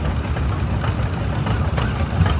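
An old John Deere Model E stationary engine runs at steady idle in a row of vintage engines at a steam and gas show, giving a continuous low chugging drone with faint irregular knocks.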